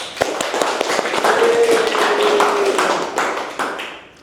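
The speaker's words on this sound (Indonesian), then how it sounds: "Beri tepuk tangan pada Fareza." A classroom of students claps hands together in a dense burst of sharp claps lasting a few seconds, with a faint voice under it, then tapering off.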